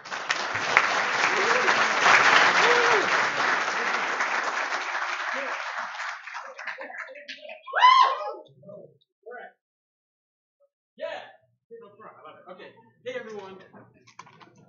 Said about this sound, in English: Please give him a round of applause, Matt Mitchell.